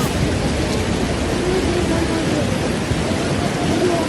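Torrential monsoon rain pours down in Jodhpur, a dense, loud, unbroken roar of water that holds steady throughout with no pauses.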